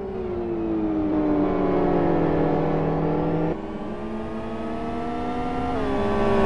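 GT1 World Series race cars run on track, engines droning and shifting pitch as several cars rev and pass, loud and continuous without talk.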